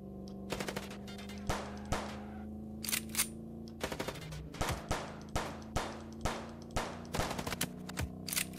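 Gunshots ring out in the Chicken Police game, sharp individual reports and short bursts repeating at an irregular pace across the whole stretch over a steady low background hum, with no talk.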